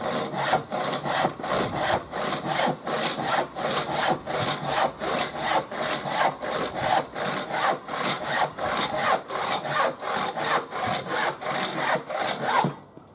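A handsaw cuts steadily through wood in a long run of even push-pull strokes, each a loud rasping swish, close up and alone, ending abruptly as the cut finishes.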